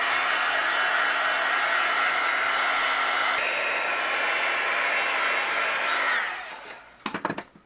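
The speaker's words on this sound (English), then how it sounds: "I'm going to go ahead and melt this embossing powder." Heat gun melting embossing powder on a card panel, a loud, steady blowing roar that holds for about six seconds, then shuts off and winds down, followed by a few brief knocks.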